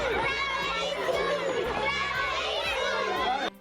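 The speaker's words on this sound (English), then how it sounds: "the environment was heaving with children full of cheer" Schoolchildren at a school during break time, a dense crowd of young voices shouting, chattering and cheering together, loud and continuous, cutting off abruptly near the end.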